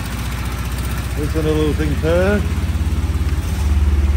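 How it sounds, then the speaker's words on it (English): Small three-cylinder engine of a Subaru Brumby idling and revving through a pea-shooter exhaust, steady throbbing pulse close by, with someone talking over it. "Listen to that. Pure little three-cylinder power."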